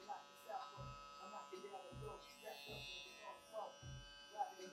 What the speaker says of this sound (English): Like I said, you only use one corner of the trimmer.